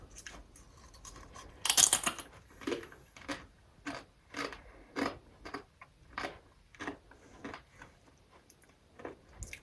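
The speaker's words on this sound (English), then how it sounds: "Let's see, it snaps like a crisp." An air-fried potato crisp from a Tower XpressPro 5-in-1 11-litre air fryer oven snaps loudly once, then a steady series of close, sharp crunches follows as it is chewed, with no talking.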